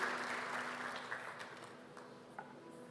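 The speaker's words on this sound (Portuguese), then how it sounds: "Vamos dar um aplauso ao Senhor pela vida dos nossos visitantes" A church congregation applauds, a soft continuous patter of clapping that slowly fades, heard from some distance under a faint hum.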